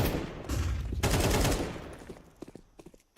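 Pistol fire in a competitive shooter esports match, rapid bursts of shots layered together for a second or so, then fading into sparse single cracks.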